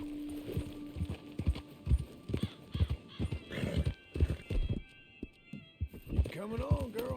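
A horse in the Red Dead Redemption video game walks with steady clip-clopping hooves and gives a whinny, fairly faint, while a voice talks over it.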